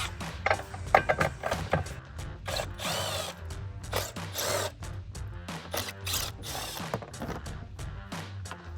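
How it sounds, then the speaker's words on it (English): An impact wrench rattles in repeated short bursts while removing 7mm bolts that hold a fog light on a 2007-2016 Chevrolet Silverado 1500. The bursts are close, loud and mixed with clanks from tools and parts. "You can use a ratchet, but I have an impact, so I'm going to go ahead and use that."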